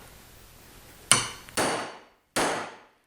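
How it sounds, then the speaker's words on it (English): Three sharp metallic hammer strikes on a pry bar wedged under a nail ring out, close and loud, each followed by a short fading ring, with brief pauses between blows. "as I hit it with the hammer, I'm going to rotate it, start rotating it under the nail"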